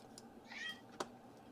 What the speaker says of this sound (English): My cat is going nuts, in case you guys can hear it.